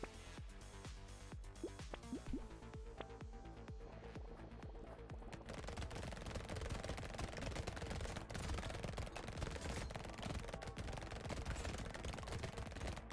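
Rapid SMG fire in the Brotato game: a steady stream of quick shots that thickens into a near-continuous rattle in the second half, fairly faint and with no talking.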